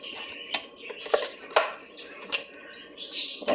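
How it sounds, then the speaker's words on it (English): A knife chopping small tomatoes into tiny pieces for a gnocchi sauce, heard as a few sharp, irregular clicks against a board, close and fairly crisp amid light clatter. "Just like your onions, you chop it up."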